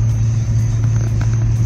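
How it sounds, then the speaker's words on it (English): A Volkswagen Jetta runs while driving around a neighborhood, giving a steady low engine rumble and road drone with no talk. "Alright, so the car's running pretty good so far."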